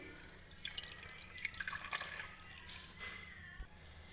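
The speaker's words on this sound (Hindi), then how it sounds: "तो अभी इसमें मैं पानी ऐड करूँगी, इमली में भी और खुबानी के अंदर भी।" Water trickles and drips into a bowl of tamarind and dried apricots set to soak, a faint splashing pour with scattered droplets, close by and alone with no talk.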